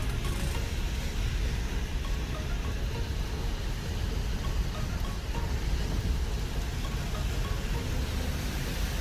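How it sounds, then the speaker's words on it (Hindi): Heavy rain hammering a car on the road during a drive, a steady dense broadband wash of drumming and road noise that holds constant and fairly loud throughout, with no voices. "रास्ते में बहुत तेज़ बारिश हुई"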